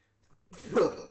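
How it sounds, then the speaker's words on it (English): A single close sneeze bursts out after a brief quiet intake, loud and breathy with a short tail, with no other sound around it. "I need to sneeze."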